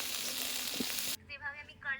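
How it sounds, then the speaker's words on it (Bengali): Eggplant sizzles steadily in hot oil in a pan for about a second, then stops abruptly, leaving faint tonal kitchen sounds afterward. "বেগুনটা হালকা ভেজে নেব"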